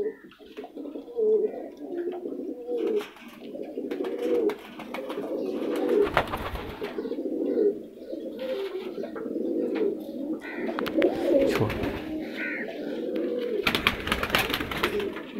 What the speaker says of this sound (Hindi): ये जी वो कबूतर